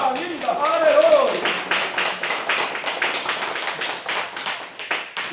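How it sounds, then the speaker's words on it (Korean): Church congregation clapping during a Korean Sunday worship service, a run of sharp hand claps in loose rhythm, close and fairly loud, following a preacher's voice at the start. "박수의 영광입니다"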